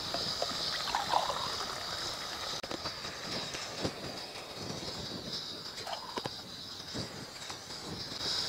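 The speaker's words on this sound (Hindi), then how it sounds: "अब इसमें पानी डाल देते हैं।" Water pours into a pot of spiced fried vegetables for a vegetable pulao cooked at an outdoor spot, a soft continuous hiss and trickle running throughout at a low, even level.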